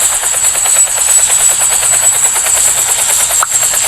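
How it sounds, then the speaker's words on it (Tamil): An aircraft in the Roblox game Barry's Prison Escape flies with a loud, steady, rapidly pulsing rotor-like roar that fills the whole stretch, with one brief dip near the end. "ஃப்ளைட்டில் உட்காந்துட்ருக்கோம்."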